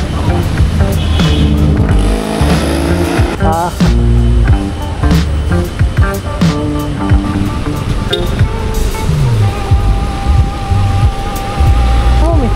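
Heavy rain hissing over road and engine noise on a moving motorcycle taxi ride, with whooshes of traffic passing close by.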